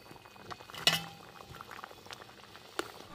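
A pot of fish curry broth seasoned with ground ginger, green chili and cumin paste bubbles at a low simmer, with one sharp clink of a utensil against metal near the start and a soft gurgle throughout.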